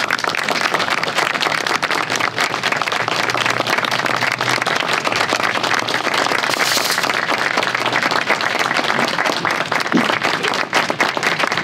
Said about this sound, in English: I want to stand up and clap and say thank you.